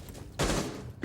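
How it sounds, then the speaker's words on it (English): Frag grenade explosions in the tactical shooter Rainbow Six Siege, a sudden loud blast lasting about half a second followed by a second burst at the end, over a low game background. "Sledge goes in for the frag grenade, takes the Bandit charges out"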